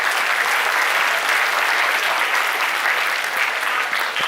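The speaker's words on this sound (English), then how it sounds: "A wide round of applause and thanks to all the participants" A college keynote event audience gives sustained, even applause throughout, a dense wash of clapping with no pauses.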